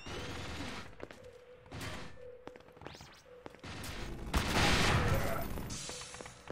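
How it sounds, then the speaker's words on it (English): Gunfire crackles in bursts in the shooter game E.Y.E, then a grenade explosion erupts as a loud, sustained roaring blast that slowly fades, with brief voices in between. "All right, we pushed through that grenade explosion."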